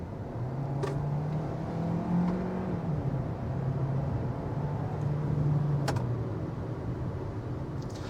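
Engine of a 2025 Hyundai Kona pulling under acceleration in sport mode, a steady low drone that swells slightly while the cabin road noise stays constant throughout.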